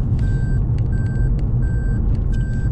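A vehicle's reversing alarm beeps in a steady repeating pattern, loud and close, while it backs up into a driveway, with a low engine rumble underneath.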